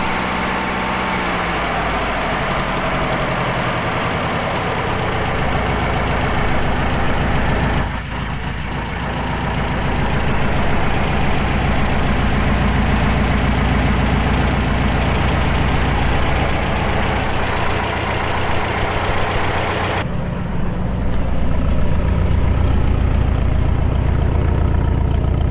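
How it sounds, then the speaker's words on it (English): A rebuilt air-cooled V4 engine runs continuously at close range, a dense, loud, steady idle with a brief dip in level partway through, and no voices. "You know, the engine runs really well, but the main testing is driving it."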